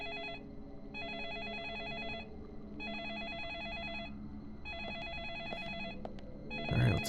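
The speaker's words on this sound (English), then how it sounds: "Alright, let's go answer the phone." In the video game Deadly Premonition Origins, a telephone rings in repeated electronic bursts with regular pauses between them, clear and steady, with a brief thump near the end.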